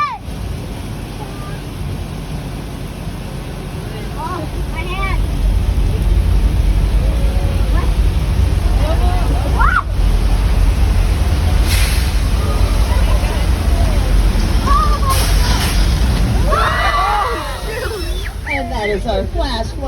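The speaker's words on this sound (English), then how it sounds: "That is our flash flood effect." A staged flash flood effect on the Universal Studios Hollywood tram tour: heavy rushing water surges and roars steadily, building to a loud continuous torrent, with people talking and chirpy voices faintly mixed in.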